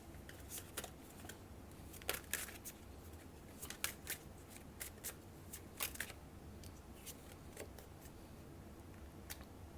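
Tarot cards being shuffled by hand, quiet and close, with repeated crisp riffling snaps and flicks in irregular bursts over a soft hiss, no talking.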